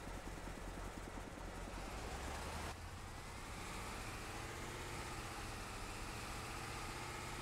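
A tractor and combine in Farming Simulator 22 idle with a steady, droning engine rumble that shifts tone briefly partway through and then holds constant, with no voices.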